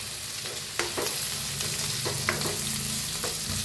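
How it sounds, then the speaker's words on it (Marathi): Chopped tomatoes and coriander stems roast in a hot pan, giving a loud continuous sizzle with occasional scraping stirs and small clicks, up close and with no talking. "टमाटो घालूया कापून घेतलेले कोथंबीरची देठ आहेत बघा हे भाजून घेऊया सगळा मसाला"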